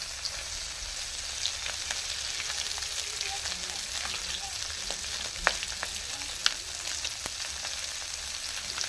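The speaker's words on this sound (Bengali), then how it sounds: "আদাটা দিতে ভুলে গেছিলাম তো সাইডে ভেজে নিচ্ছি" Ginger fries at the side of a pan, a quiet continuous sizzle with scattered small pops and crackles throughout, close but soft, no talking.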